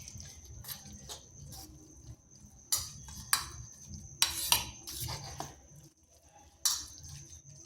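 A spoon stirs carrot into batter for sweet patishapta pitha in a bowl, giving sharp irregular clinks and scrapes against the bowl with quiet pauses between.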